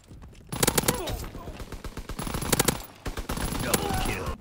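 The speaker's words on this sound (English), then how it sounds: "It's a pretty fast firing SMG with no recoil." A Blyskawica submachine gun fires in Call of Duty WW2 in rapid, close bursts of cracking shots, with short pauses between strings of fire and someone talking over them.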